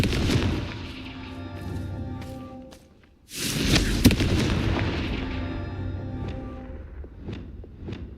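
Fiery Confringo spell blasts explode in Hogwarts Legacy, a dense burst of booming crackle near the start, a brief lull, then a loud second explosion around four seconds that rumbles on with scattered sharp pops as it fades.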